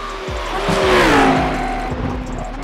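A Lamborghini Huracán GT3 EVO V10 race car in the iRacing simulator, its engine loud and close, revving up and then dropping pitch through a gear change amid tyre squeal on track.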